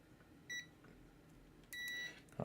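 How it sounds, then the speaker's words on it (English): A multimeter set to continuity mode gives two short electronic beeps, a brief one and then a longer tone, faint and close against a quiet background. "Continuity mode so I can hear him beep."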